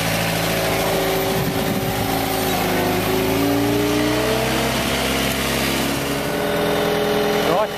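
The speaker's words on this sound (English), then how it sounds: "this is the forklift taken into the job" A forklift carrying a pallet of lawn turf onto a building site, its mid-pitched engine droning and revving up and down close by, with harmonic tones sliding as it moves, while someone talks over it.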